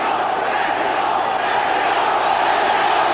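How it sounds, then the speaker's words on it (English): A large arena boxing crowd chants for Julio Cesar Chavez during his fight with Kostya Tszyu, a loud, dense, continuous roar of many voices filling the space without a break. "Crowd chanting for Chavez."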